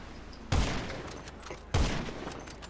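Heavy gunfire from a minigun in Grand Theft Auto V: two loud, booming bursts about a second apart, each trailing off into a sustained roar. No one speaks.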